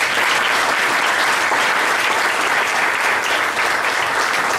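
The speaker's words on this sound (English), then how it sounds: "Let's honor them on this evening with a great big round of applause" A large audience gives a sustained, dense round of applause honoring retiring school staff, loud and continuous throughout without a break.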